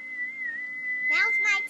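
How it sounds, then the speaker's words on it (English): A person whistles one steady, clear sustained note for about a second, and then a voice breaks in briefly. "I just taught myself to whistle."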